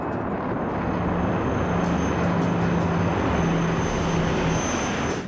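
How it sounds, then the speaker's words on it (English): A climbing propeller airplane drones steadily and loudly, its engine hum constant with a low tonal rumble throughout. "The plane is climbing, but not as quickly as it should be."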